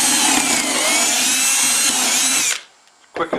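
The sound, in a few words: power drill drilling dowel hole with Dowelmax jig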